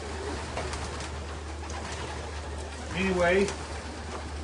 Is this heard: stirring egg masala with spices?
no